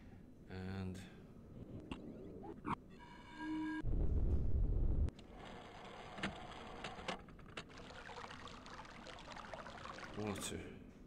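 Water sound from the Selenitic Age in the video game realMyst, heard as a short burst of rushing, splashing water among other game tones and chimes, with a person talking over parts of it.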